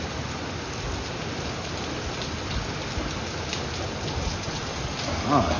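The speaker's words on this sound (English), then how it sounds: "Look at all that rain." Steady heavy rain pours down in a dense, continuous hiss, with a faint brief rumble near the end.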